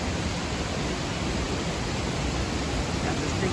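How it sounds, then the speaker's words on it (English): Rushing water of the Whitewater River on the Foothills Trail, heard as a steady, dense broadband roar with no pauses, loud and close, like a river crossing seen from a bridge. "Crossing over the Whitewater River."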